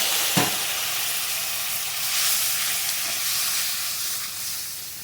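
Water poured into fried spice masala in a pan for a fish curry gives a steady, fairly loud sizzling hiss that carries on for several seconds without speech.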